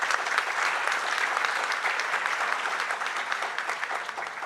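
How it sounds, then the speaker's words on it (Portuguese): An audience at a ceremony marking the 70th anniversary of DIEESE, a Brazilian trade-union research body, breaks into sustained, dense applause, a steady wash of many hands clapping at even volume that eases slightly toward the end. "peço uma salva de palmas"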